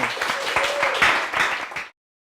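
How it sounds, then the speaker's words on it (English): Brief applause from a small audience at a pitch event, a couple of seconds of clapping that cuts off abruptly. "Thank you, round of applause."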